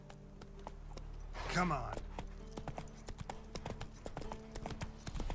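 Hooves of Roach, a horse in a video game, clip-clop in a steady rhythm at close range, with someone talking over them and a louder rustling burst near the start.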